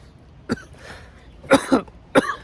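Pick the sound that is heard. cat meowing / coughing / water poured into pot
coughing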